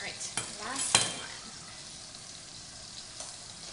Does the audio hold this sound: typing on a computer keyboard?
no